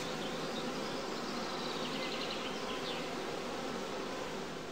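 Honeybees buzz in a steady, dense drone around small mating boxes at a heathland skep apiary, a continuous close swarm hum with individual bees passing through and no talk.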